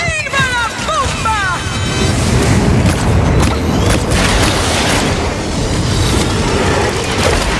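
Booming explosion from a bomb in the competitive shooter Paladins, a loud, sustained blast rumble with crashing debris, mixed with voices and whistling game effects.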